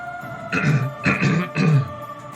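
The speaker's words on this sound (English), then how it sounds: "I clear my throat an awful lot" A man clears his throat three times in a row, each a rough, throaty rasp about half a second long, close to the microphone with brief pauses between.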